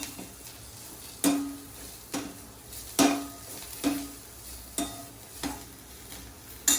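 Garam masala and coriander powder are stirred in a pan for a chickpea kadalai curry, with a spoon scraping and tapping at a regular rhythm over a faint, quiet sizzle.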